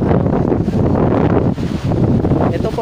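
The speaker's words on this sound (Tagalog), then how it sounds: "napakalakas po talaga ng ano, ng hangin." Strong wind roars and buffets the microphone continuously, a loud rushing gust with no clear pauses.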